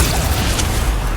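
Confringo blast spell in Hogwarts Legacy, a short heavy boom with a low rumbling burst filling the whole moment, loud and close.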